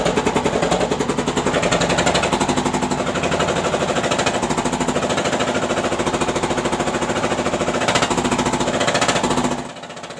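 A Jiandong ZH 1115 single-cylinder diesel engine runs with its board cover fitted, giving a steady, rapid loud knocking chug that holds evenly for about nine seconds before dropping off at the end.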